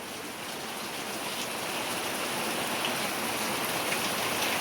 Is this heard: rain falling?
yes